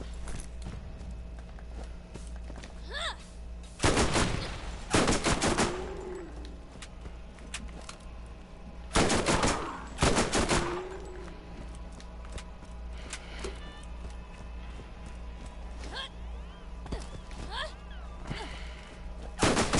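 Repeated bursts of rapid gunfire aimed at skags in the video game Borderlands, two long volleys and a few scattered single shots over a steady low game hum.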